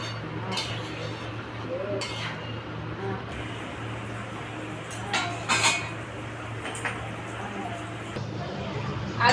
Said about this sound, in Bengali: ঢাকা দিয়ে দিচ্ছি, ঢাকাটাকে খুলে দিচ্ছি।